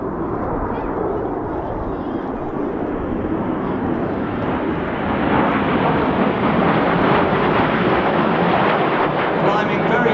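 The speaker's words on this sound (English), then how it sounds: "As the jets go upside down, they'll see you waving, boys and girls." Jet aircraft at the East Fortune Airshow roar overhead in formation, a loud steady broadband rush that swells in the second half, with a commentator speaking over the noise.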